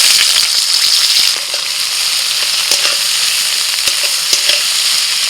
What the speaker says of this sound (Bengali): ওই তেলের মধ্যে দিয়ে দিচ্ছি পেঁয়াজ কুচি